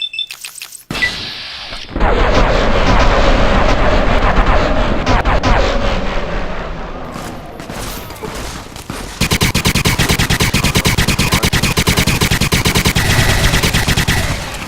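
Gunfire in the video game Fallout New Vegas, loud sustained bursts of rapid shots filling the stretch after a brief quiet start, easing slightly midway and then resuming at full intensity.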